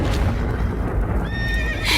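Horses neighing in an animated Hindi moral story about horses caught in a stable fire, a loud shrill whinny over a dense rumbling background, with hoof-like clatter.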